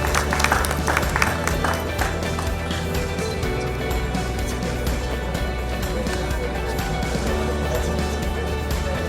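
Continuous applause fills a school innovation award ceremony, a thick, even roar of many hands clapping that is slightly louder at the start and then holds steady.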